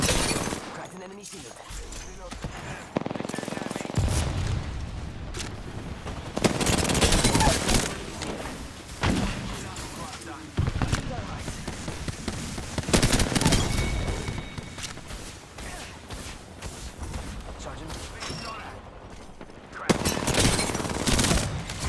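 Rapid automatic gunfire and bursts of shots in the Apex Legends ranked arena match, loud and dense throughout, with brief lulls and a speaking voice over the fighting.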